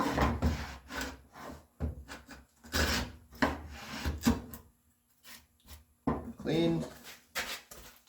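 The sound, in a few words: hand tools cutting a dado in walnut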